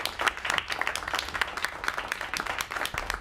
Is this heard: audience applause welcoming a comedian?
yes